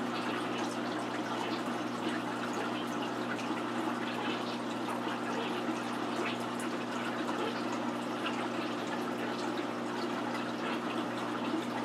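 Steady rushing water pours into a 125 gallon planted aquarium during a water change, a constant close hiss and gurgle with a low pump-like hum underneath, unbroken throughout.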